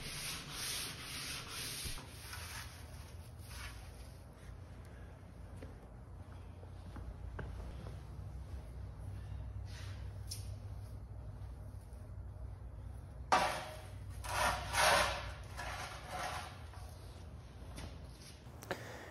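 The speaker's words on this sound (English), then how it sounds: "I then sanded with the grain using the concave sanding block that I had made." A wooden spar is sanded by hand with sandpaper on a concave sanding block, working with the grain. The strokes make a continuous, close, raspy rubbing, with a few sharper scuffs near the end.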